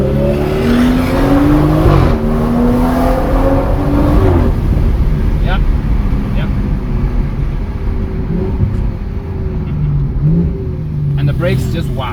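A BMW M240i pulls hard with a loud engine note that climbs in pitch, drops briefly at quick gear shifts, and climbs again, heard from inside the car with steady road and wind noise.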